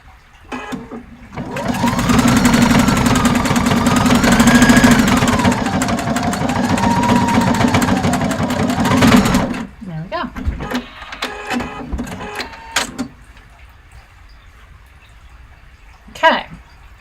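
A sewing machine sews in the last unsewn stretch of a dress zipper, a loud close mechanical whir with shifting pitch for about eight seconds, then stops, followed by handling clicks and a voice speaking.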